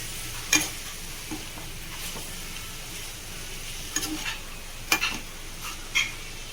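Bitter gourd stir-fry with tomato is stirred in a pan under a faint steady sizzle, with a few sharp spoon scrapes and taps against the metal.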